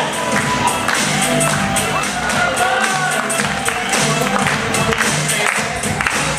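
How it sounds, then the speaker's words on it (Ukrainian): Audience at a stand-up comedy show applauding and cheering for a comedian coming on stage, a dense steady wash of clapping with crowd noise running for the whole stretch. "Давайте привітаємо його відповідними аплодисментами та оплесками Олександр Дмитрович."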